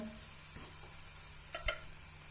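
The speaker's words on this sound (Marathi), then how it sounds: "आता पराठा भाजून घेऊया उलटून घेतलाय पराठा" A thick cauliflower paratha roasts on a hot pan after being flipped, giving a soft steady sizzle with a couple of brief scraping stirs or taps, quiet and close.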